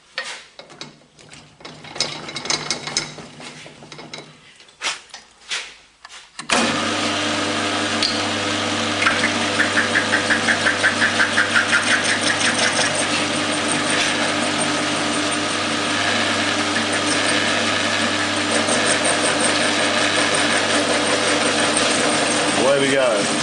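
A lathe machines a brass ornamental flask: after quiet clicks and handling, the machine starts abruptly and runs with a steady loud mechanical whir and hum, overlaid by a faint rhythmic ticking from the cutting.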